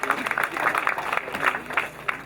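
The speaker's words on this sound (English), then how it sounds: "Please, let's give them a round of applause." Applause from the audience at a university graduation ceremony, a steady crowd clapping throughout without talk.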